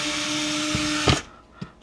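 Power drill fitted with a 5-in-1 adapter used to take apart a rusty paper shredder, a steady whirring whine that cuts off abruptly, followed by a couple of soft clunks.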